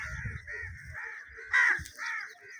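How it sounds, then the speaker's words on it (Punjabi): Crows cawing over farm fields in rural Punjab: a series of harsh caws in quick succession, one louder call midway, fairly faint and outdoors with little else around. "ਤੁਸੀਂ ਵੇਖ ਰਹੇ ਨੇ ਕਾਂ ਵੀ ਉੱਡ ਰਹੇ ਨੇ"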